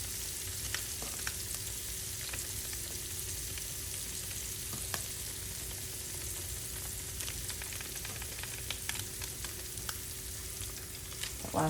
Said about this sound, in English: this is just really gonna cook like a minute per side